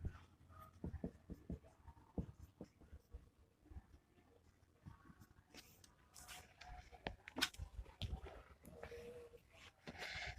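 A marker or chalk writing on a board during a chemistry lesson, faint irregular taps and short strokes in bursts, with quiet room noise and no talking.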